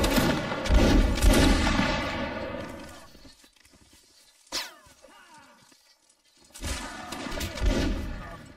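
Rifle volleys crack at a military reenactment with infantry in period style, loud rolling bursts of massed fire echoing outdoors. A single shot falls in the quiet middle, then another ragged volley follows.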